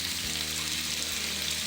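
Chicken fries in a pan for a chicken and chickpea curry, producing a short, steady, close sizzle with low bubbling underneath and no speech.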